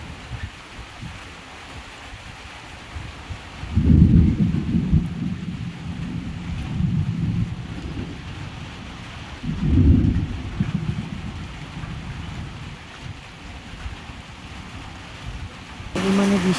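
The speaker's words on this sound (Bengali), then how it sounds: "প্রচণ্ড বৃষ্টি হচ্ছে আর ঝড় হচ্ছে, বিদ্যুৎ চমকাচ্ছে" Heavy rain falls outside during a thunderstorm, a steady wash of rain broken by two deep rumbling swells of thunder, heard from indoors at moderate distance.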